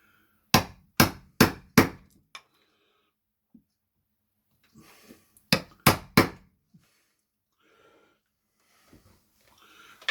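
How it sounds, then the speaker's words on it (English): A chisel struck with a hammer to cut the recess for a Chubb-style mortice lock in a door: two bursts of four sharp, loud, evenly spaced blows, close by, separated by quiet handling noises and brief breathy sounds. "I get the smaller chisel again, put it on the line and slightly over"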